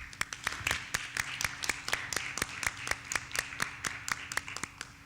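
A small group claps in a scattered, lively rhythm for several seconds, the sharp hand claps fairly close and fading slightly toward the end.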